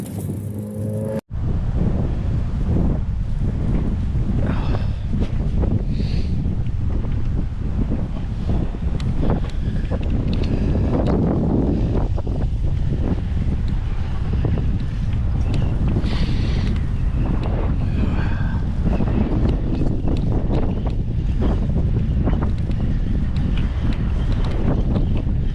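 Strong wind buffets the microphone continuously while riding across the country in Florida, a loud, steady roaring rumble with gusty swells throughout.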